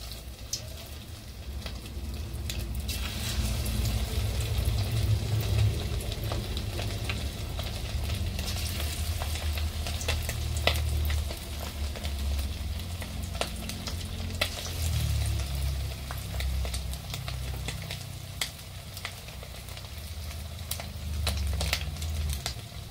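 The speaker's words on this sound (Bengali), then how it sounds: "আমার তেল গরম হয়ে গেছে। এখন আমি দিয়ে দেব চিকেনগুলো।" Chicken pakora pieces frying in hot oil, a steady dense sizzle with crackling pops running continuously for the whole stretch, close and alone without talk.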